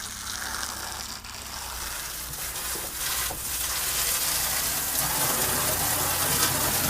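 Water sluicing over floorboards being washed on a sailboat, a steady close gushing spray that grows slightly louder, with no talking.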